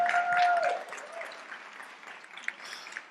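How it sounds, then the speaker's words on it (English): Audience applause at the Frontera Leadership Institute Demo Day 2024 claps steadily for about three seconds and gradually thins out. A high whistle-like tone rings over the clapping at first. "Another round of applause, please, for both of them."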